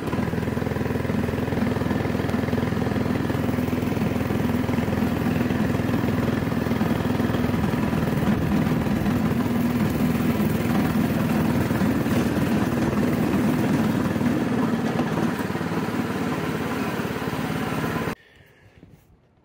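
A neglected go-kart engine runs loud and continuous with a buzzy, droning tone during a test drive, holding steady for about eighteen seconds before cutting off abruptly.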